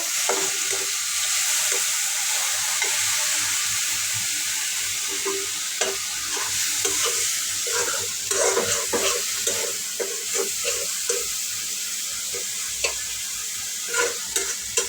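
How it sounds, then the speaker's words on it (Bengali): A steady, loud sizzle of dried shrimp frying with onion and garlic in a hot pan, with occasional stirring scrapes and light clinks throughout. "পেঁয়াজ এবং রসুন দিয়ে শুটকিটা একটু ভাজবে"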